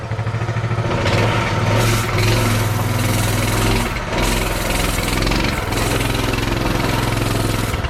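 A Coleman BT200x mini bike's small engine warms up inside a shed, running as a loud, steady idle drone with a slight rise and fall and no break.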